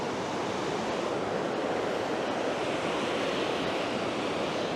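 Surf rolls onto a long beach in a steady, broad wash of waves, loud and continuous with some wind, and no talking.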